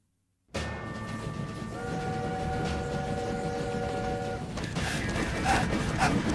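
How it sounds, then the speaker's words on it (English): A steady rumbling video game train from My Time at Sandrock with rolling mechanical noise and sustained tonal whines layered on top, continuous and fairly loud after a brief silent start. "Stop the train!"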